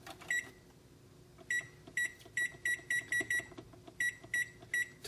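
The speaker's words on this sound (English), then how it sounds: "if you have a timer on your stove, it will be a good time to set a timer" A stove timer being set gives a run of short, sharp electronic beeps in uneven bursts, some spaced apart and some in quick succession, over a faint background hum.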